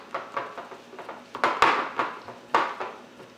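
Coloured icing being mixed in a bowl with a utensil makes a series of close clinks and scraping knocks against the bowl, irregular but frequent, with a few sharper taps and no talking.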